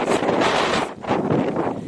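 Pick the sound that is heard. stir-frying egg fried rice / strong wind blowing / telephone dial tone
strong wind blowing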